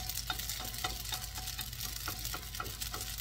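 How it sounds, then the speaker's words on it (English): Noodles with chicken and vegetables sizzle in a hot pan as a utensil pushes them toward the middle, with steady frying hiss and regular light scraping taps, close and without speech. "And then we kind of like push the noodle all into the middle."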